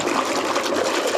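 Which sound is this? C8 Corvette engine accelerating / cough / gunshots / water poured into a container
water poured into a container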